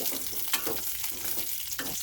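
Two to three spoons of oil sizzle steadily in a pan as ingredients roast for a North Karnataka dabbu chilli palya masala, with a continuous crackling hiss and occasional stirring scrapes, close and without speech.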